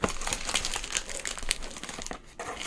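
Crinkly plastic mail packaging from an AliExpress parcel being ripped open by hand, close and continuous rustling with sharp tearing bursts, no talking.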